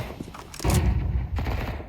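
Gunfire spraying through a yellow tarpaulin in Counter-Strike 2 on the Vertigo map, two quick bursts of shots, loud and close.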